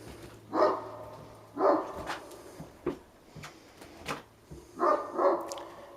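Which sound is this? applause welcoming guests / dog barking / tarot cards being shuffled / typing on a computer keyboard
dog barking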